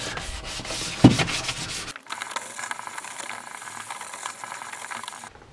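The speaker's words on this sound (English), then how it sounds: "So I flattened it all back with 800 grit" Wet-or-dry 800 grit paper is rubbed by hand over Rover Hurricane Grey car paintwork, giving close, rasping back-and-forth strokes that are loud at first, then softer and steadier.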